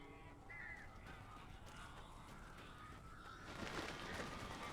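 Crows caw faintly in the video game Alan Wake, a few distant calls over a low ambient rumble.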